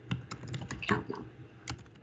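Java code is typed on a computer keyboard in quick, irregular bursts of close, crisp key clicks, some strikes louder than others, with no speech.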